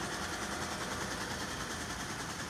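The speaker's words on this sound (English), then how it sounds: "She's sewing some bags." A sewing machine stitches fabric bags with a steady, continuous motor whir that holds an even level throughout, with no voices.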